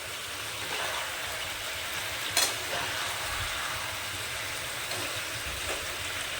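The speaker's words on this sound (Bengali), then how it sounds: "5 মিনিট কষিয়ে নেব।" A vegetarian mixed-vegetable curry sautés in a pan, giving a steady low sizzle under repeated scraping stirs, with one sharp clink of the spoon partway through and no talking.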